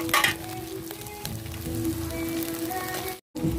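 Chopped tomatoes hitting hot oil with fried onion, ginger and garlic for a chicken curry: a steady, close, hissing sizzle with faint stirring clatter and a brief dropout near the end.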